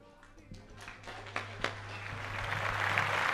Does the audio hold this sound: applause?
yes